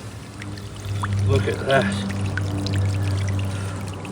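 Dirty brown water pours out of a formal pond being serviced, making a steady, fairly loud gushing flow. Someone briefly speaks over the rushing water.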